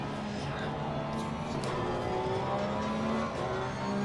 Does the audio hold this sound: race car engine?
yes